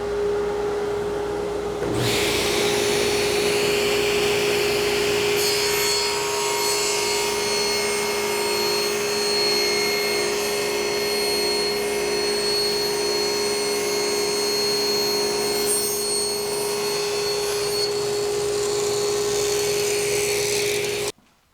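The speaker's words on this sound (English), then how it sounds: "when I cut the miter, they'll be cut simultaneously" Power saw running steadily to cut a miter through a wooden humidor lid and side panel at once, a loud continuous whine and grinding rasp lasting about twenty seconds close by before stopping abruptly, with no talk.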